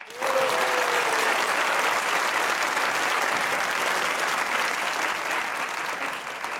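Sustained audience applause fills a talk-show studio, a dense steady wash of many hands clapping at full strength for over six seconds before easing slightly at the end, with no voices over it.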